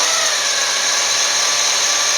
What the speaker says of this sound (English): So of course we're going to use an electric drill while we're doing this.